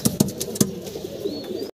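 Pigeons at a pigeon farm coo nearby in a few soft, low rhythmic pulses with faint chirps, and no one speaks.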